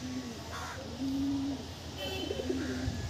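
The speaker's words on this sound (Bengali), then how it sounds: "এখন কলকাতাতেই প্রচুর মাদ্রাস পায়রা" Madras pigeons coo in a loft, with several soft, low, drawn-out coos at irregular intervals over quiet background noise.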